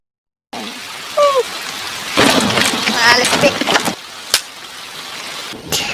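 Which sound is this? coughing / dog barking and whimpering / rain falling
rain falling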